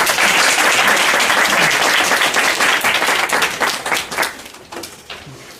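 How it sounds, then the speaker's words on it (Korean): Audience applause welcoming a pastor to speak at a church service, loud dense clapping that holds steady and then thins out and fades over the last seconds. "큰 박수로 환영해 주십시오."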